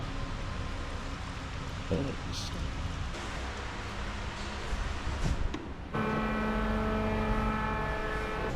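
A BMW 4 Series idles in a repair shop during servicing, its engine giving a low, steady rumble under a broad wash of workshop noise, with brief knocks and a louder, tonal whine joining near the end.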